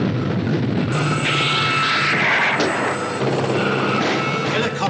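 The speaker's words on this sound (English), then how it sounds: "Helicopter and smoke bombs." A helicopter rotor drones loud and steady overhead, a continuous engine roar filling the whole stretch, with a faint voice briefly underneath.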